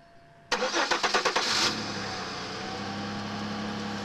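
A 2000 Chevy Malibu LS with the 3.1 engine cold-starting on an icy winter morning, heard from outside: a loud burst of rapid cranking pulses catches within about a second, settling into a steady, even idle.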